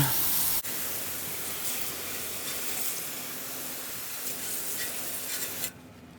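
Water spray rinsing car wheels during a car clean, a steady broadband hiss running loud and continuous for several seconds before cutting off near the end.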